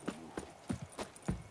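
Horse hooves clip-clop at a steady, even walking pace in The Witcher 3, with five or six soft distinct hoofbeats that stay faint and close, with no talking.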